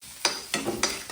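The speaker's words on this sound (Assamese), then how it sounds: "এইখিনি মাছ ভাজি হৈ গ'ল" Fish frying in a pan, with three bursts of loud sizzling and stirring roughly a quarter-second apart over a steady background hiss.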